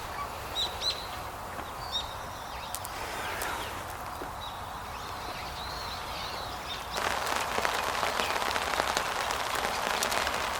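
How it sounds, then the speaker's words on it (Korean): Steady winter rain patters on surfaces outdoors by a fishing pond, growing denser and louder partway through, with faint bird calls in the background. "빗방울이 점점 거세지고 있네요."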